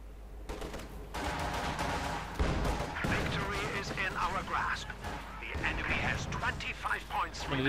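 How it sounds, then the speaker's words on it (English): Stuka bomb drops and gunfire in a Company of Heroes 2 team battle, with repeated heavy booming blasts and crackling shots layered densely over several seconds while a commentator talks throughout. "Quick strafe there. Engineer suppressed and Stuka bomb drop."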